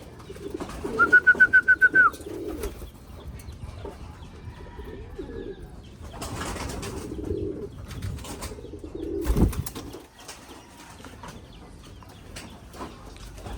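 Racing pigeons coo in soft, throaty bursts at intervals during free-flight recall training, close by, with a brief rapid chirping call near the start and light rustling and handling noises between the coos.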